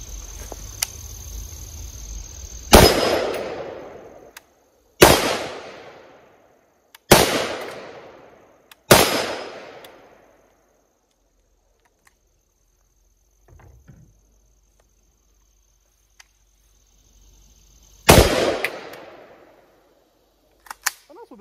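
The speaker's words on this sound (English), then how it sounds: "With the rifle, I guess I forgot that the bolt doesn't lock back after the last shot." A rifle fitted with a drum magazine and a red dot sight fires five sharp, loud shots outdoors, spaced a couple of seconds apart with a long pause before the last, each ringing off into a fading echo.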